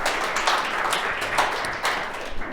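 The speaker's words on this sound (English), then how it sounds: "Applause for Edwards." A conference audience claps steadily after a talk, a dense patter of hands that swells slightly and continues throughout.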